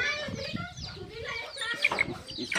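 Roosters fighting on a farmyard after a storm, with agitated clucking and squawking calls in a scuffle, fairly close, mixed with background voices talking.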